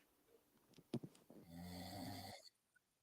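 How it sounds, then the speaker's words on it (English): A faint, single snore, a rough rattling inhale after a few soft breaths, alone in a quiet room. "he's still snoring"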